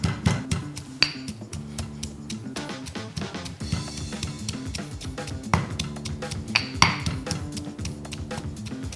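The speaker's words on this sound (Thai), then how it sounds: "นำกระเทียมนะครับ แล้วก็พริกเหลืองแล้วก็โขลกให้พอหยาบๆครับ" Garlic and yellow chili pounded coarsely in a mortar with a pestle, a close series of dull rhythmic thuds, some quick and some spaced, with faint grinding between the strikes.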